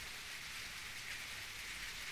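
Steady rain in the video game The Walking Dead: 400 Days, set in a post-apocalyptic world, a continuous hiss of falling drops heard alone at moderate level throughout.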